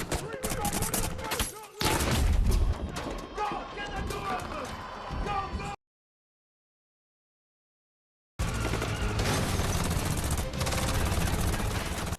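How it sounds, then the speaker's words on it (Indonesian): Gunfire in a film shootout comes in dense bursts of shots and impacts under loud action sound, cutting to silence for a few seconds before the barrage resumes. "baku tembak pun tak terelakkan"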